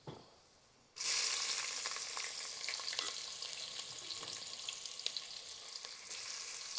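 Onions hit hot oil with a sudden loud hiss after a moment of near-silence, then settle into a sustained, bright sizzle with scattered crackles that holds steady to the end.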